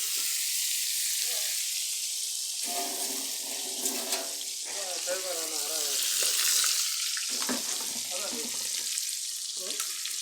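Fish frying in a pan of oil, a steady hissing sizzle running close and continuous throughout, with occasional clinks of a utensil and brief bursts of water or stirring noises.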